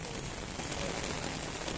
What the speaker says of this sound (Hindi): दोस्तों, बड़ी जोर के बारिश आ गई है।